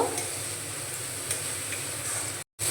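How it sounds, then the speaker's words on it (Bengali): Biryani masala with shahi garam masala being stir-fried in oil in a pan for egg biryani, a steady close hiss with faint scraping ticks, ending in a brief dropout. "মশলাটা ভালো করে কষিয়ে নেব"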